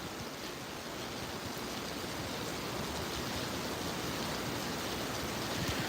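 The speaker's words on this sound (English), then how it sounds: "now the rain's getting heavy again" Heavy rain from a strong thunderstorm in Effingham, Illinois, falling as big drops in a steady, dense roar that holds at an even level throughout, with no voices over it.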